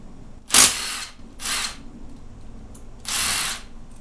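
A power tool spins out 10 mm bolts from the engine case of a Honda CB-series motorcycle during a bottom end rebuild: three separate close whirring bursts, each under a second long, with short pauses between them.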